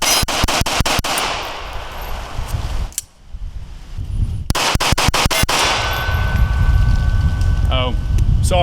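Rapid bursts of gunfire from a cheap, poorly made gun during a magazine dump outdoors, with sharp clustered shots at the start, a brief lull, then another fast string of loud reports and some mechanical rattling.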